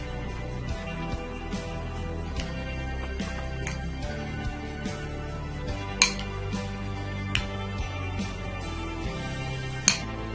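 A spoon stirs and scrapes through a mashed tomato, potato and cucumber paste in a bowl, soft continuous mixing with a few sharp clinks of metal on the dish; no voices.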